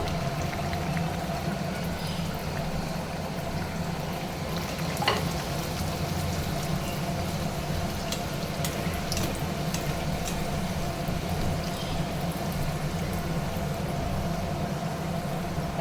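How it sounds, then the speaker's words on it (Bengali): Poppy seed puris frying in hot oil make a continuous close bubbling sizzle, steady and moderately quiet, with a few faint clinks and no talking. "তার তেলটা গরম হয়ে গেছে, এবার আমি পুরিটা দিয়ে দেব।"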